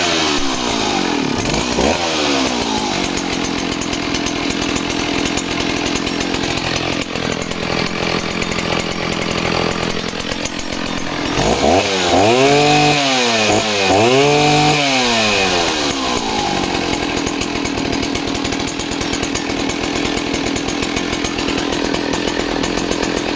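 An Oleo Mac chainsaw, one of a 67cc and S65 pair, runs loud and close while cutting discs of wood, its engine rising and falling in several sharp revving sweeps mid-clip before settling back to a steady drone.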